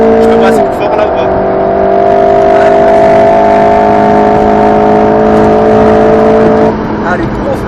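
An Alpine A110 S on the Grand Sambuc race circuit, heard from inside, holds a loud, sustained high engine note under hard acceleration, with a brief pitch change near the start and the note dropping off near the end.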